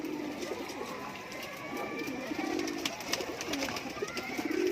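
Pahalwan breed pigeons coo in a steady, overlapping chorus close by, low rolling calls repeating throughout with a faint voice briefly in the background.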